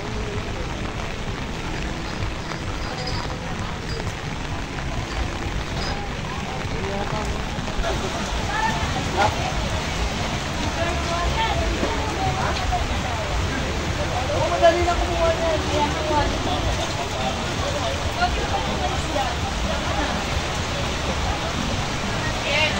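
Steady rain pours down in a dense, even hiss that never lets up, with faint voices now and then underneath.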